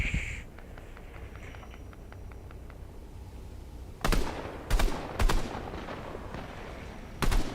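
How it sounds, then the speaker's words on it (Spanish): Gunfire in the video game Fortnite: a handful of sharp, loud shots, some in quick pairs, cracking out over a low steady game background hum after a quieter stretch. "Disparos."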